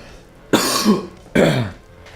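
Two sharp, loud coughs close to the microphone, about a second apart, each followed by a short rasping tail and faint background hiss.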